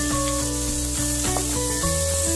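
Carrot and capsicum sautéing in a pan for white sauce pasta, giving a loud, steady sizzle with occasional stirring, and no voices.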